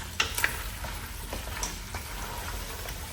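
Sadza mixture is stirred in a pot on the stove, a soft scraping and bubbling with a faint sizzle, quiet and close, with a few sharper clinks of the spoon.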